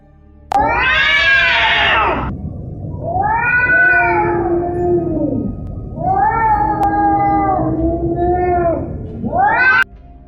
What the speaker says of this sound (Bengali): আমি বিড়ালের কান্না শুনতে পেতাম